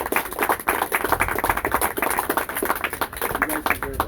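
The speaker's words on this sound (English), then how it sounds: "I want to give you a round of applause for everything that you've done" A crowd of parents applauds at a team celebration, dense steady clapping sustained throughout, fairly close, with voices mixed in.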